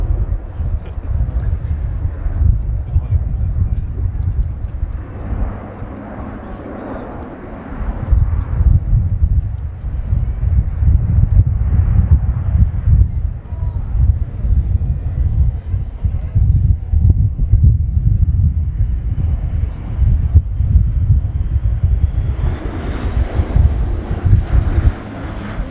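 An Airbus A400M Atlas military transport aircraft flies a display at the RIAT 2019 airshow, a loud, continuous low rumbling drone with wind buffeting the microphone, while a commentator speaks over it.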